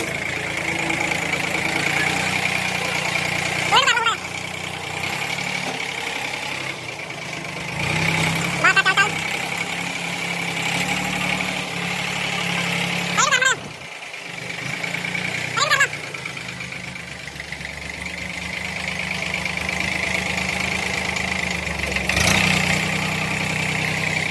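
A Swaraj 855 tractor engine runs steadily at a low, even idle while being backed up, with a few brief louder knocks and clanks along the way and faint talk in the background.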